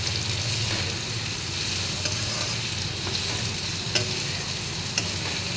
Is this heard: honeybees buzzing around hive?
no